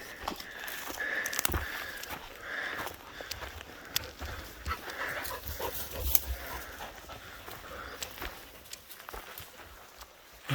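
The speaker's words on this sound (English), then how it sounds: "Here come the dogs." Dogs on a rocky trail at the Cumbemayo stone forest in Peru sniff and pant close by, with footsteps crunching on stone and scattered clicks throughout, steady and fairly quiet.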